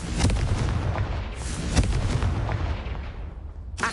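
Booming fire spell blast in the Hogwarts Legacy video game, a loud rumbling explosion with crackling bursts that swells and slowly fades over several seconds, no talking.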